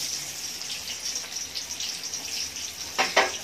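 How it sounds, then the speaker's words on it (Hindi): Onions sizzling as they go into hot oil in a pan, a steady soft hiss throughout with a louder burst of spatter near the end, close up and without talk. "तेल गर्म हो चुका है, पहले गर्म था तेल। तो मैं इसमें थोड़ी सी अनियन डाल दूंगी"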